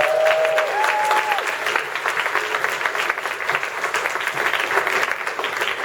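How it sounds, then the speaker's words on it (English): A Comic Con panel crowd breaks into loud, continuous applause and cheering, a dense roar of clapping that holds steady throughout, with a faint voice briefly audible near the start. "Give it a big round of applause."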